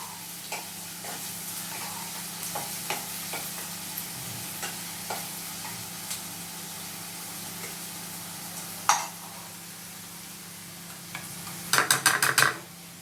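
Cut onion sizzles softly in a pan for mushroom masala, a steady low frying hiss broken by occasional scrapes of a stirring utensil and a quick run of sharp metallic clinks near the end.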